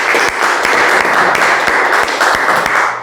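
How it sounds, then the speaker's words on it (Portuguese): A room of adults at a catechesis meeting breaks into a round of applause, dense and loud up close, continuous clapping with no voices over it. "Uma salva de palmas."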